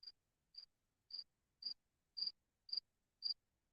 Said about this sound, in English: the crickets loud like Tasha's nympho neighbors